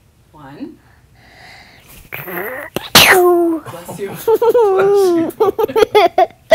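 A single abrupt sneeze bursts out amid a child's and an adult's speech, loud and close, with talk resuming right after.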